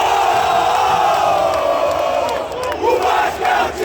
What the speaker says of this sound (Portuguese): Um vídeo dela, da torcida do Vasco, que foi ontem muito importante para o Vasco